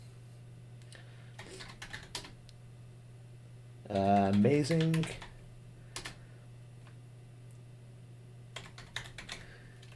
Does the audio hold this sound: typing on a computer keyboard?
yes